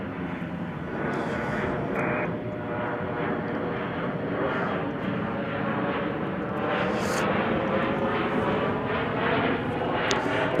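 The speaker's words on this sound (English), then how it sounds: "It's an Airbus A320." A United Airbus A320 airliner on a flight from Sacramento roars steadily at Chicago O'Hare airport. Loud, continuous jet engine noise fills all ten seconds with no break.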